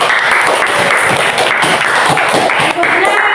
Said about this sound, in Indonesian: Beri tepuk tangan untuk Jupri.